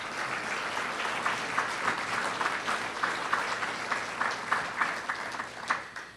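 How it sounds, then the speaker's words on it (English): At an annual workforce meeting, an audience claps for an honoree in a sustained round of applause, steady and fairly close, with individual claps standing out toward the end. "Can we give him a round of applause?"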